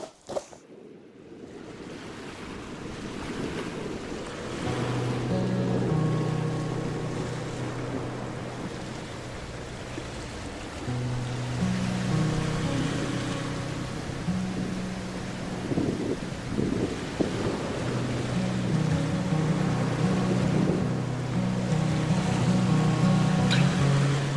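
Steady wind rumble and buffeting outdoors on a summer morning, with a low droning hum underneath, continuous and fairly loud throughout.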